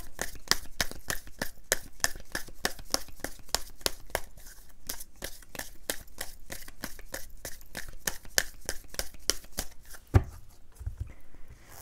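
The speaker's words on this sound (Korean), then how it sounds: "추가 카드 뽑아본 다음에 나머지 리딩 하도록 할게요" Tarot cards shuffled by hand in a rapid, steady run of crisp riffling snaps lasting most of the stretch, close and fairly quiet, ending with a couple of soft thumps as cards are set down.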